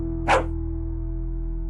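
Mr. Jippers, a dog in a dark audio drama, lets out a single sharp bark partway through, clear and close over a steady low hum.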